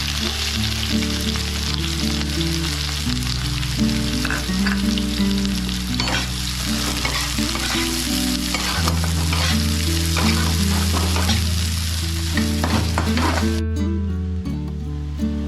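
Onions fry in mustard oil and ghee with a loud, steady sizzle that runs the whole time, stirring scrapes and bubbling spitting throughout, then thinning out near the end.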